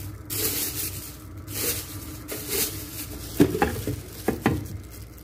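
Sugar is poured into a pot of payesh and stirred, with scraping spoon strokes, soft pattering and a few sharp clinks against the pot, close and moderately loud over a low background hum.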